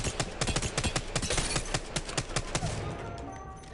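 Rapid single-fire shots from the R-301 rifle in a first-person shooter, a fast steady run of sharp cracks that thins out near the end, with no talk.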